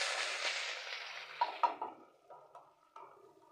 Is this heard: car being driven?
no